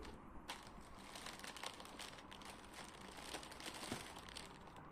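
A plastic bag is handled close up, giving a steady run of soft crinkling and crumpling rustles at low level, with no speech.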